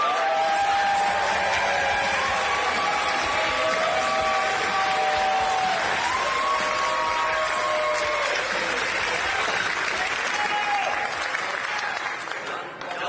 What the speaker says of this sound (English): Don't clap. I haven't said anything yet. You're clapping for two.